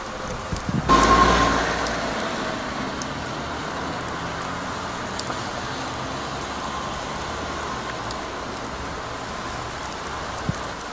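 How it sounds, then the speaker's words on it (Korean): Heavy rain pours steadily along a roadside, a dense, even hiss that holds at a constant level throughout, with a brief louder burst near the start. "갑자기 빗방울이 굵어지기 시작했다."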